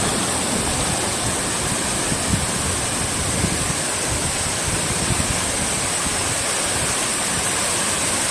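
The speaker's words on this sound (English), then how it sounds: "And then we have another waterfall up here." A waterfall on DingHu Mountain in China pours into a pool, making a loud, steady, close roar of rushing water throughout, with no voices.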